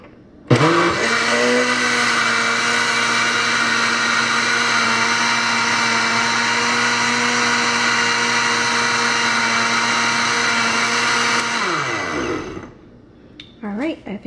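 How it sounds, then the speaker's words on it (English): A kitchen blender runs for about eleven seconds on a pumpkin soup mixture, its motor spinning up abruptly into a loud, steady whirring drone, then winding down, followed by brief clatter. "I'm just going to blend it one more time"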